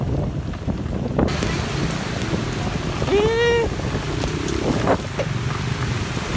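Heavy rain drums steadily on a vehicle while driving into a village district, a broadband wash under wind noise, with a brief whistling tone midway and a voice speaking near the end.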